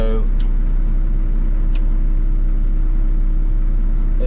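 A dump truck's diesel engine runs steadily while its 6-wheel drive is engaged, giving a constant low rumble with a couple of brief clicks above it, close and loud throughout.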